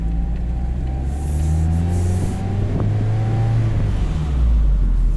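A 2020 Mazda Miata RF Club automatic revs in sport mode, its engine note droning steadily close up and rising in pitch and volume toward the end, with no voices over it.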